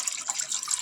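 Water being poured into a container to mix with pickling lime, a light steady trickling splash, fairly faint and continuous with small fluctuations.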